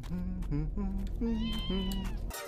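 A cat in an animated horror short meows repeatedly, giving several drawn-out, whiny cries in quick succession, fairly close and clear.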